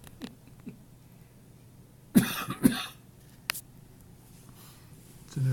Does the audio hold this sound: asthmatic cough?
yes